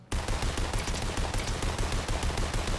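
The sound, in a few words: sniper gunfire in a video game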